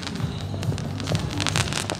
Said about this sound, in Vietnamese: Đây là pháo quốc phòng mới.